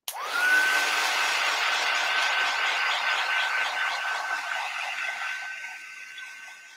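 A heat tool blows hot air to heat set a craft kit, giving a loud continuous whooshing roar that starts suddenly and runs steadily with a faint whine, close by with no voices.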